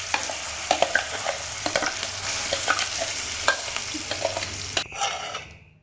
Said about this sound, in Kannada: ನೋಡಿ, ಇವಾಗ ಒಗ್ಗರಣೆ ಹಾಕಿ